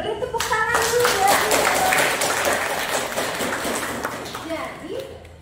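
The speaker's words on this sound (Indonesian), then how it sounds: "Beri tepuk tangan dulu ya." A round of applause from participants in an academic chemistry lecture, brisk clapping that starts abruptly, carries on for several seconds with voices mixed in, then thins out.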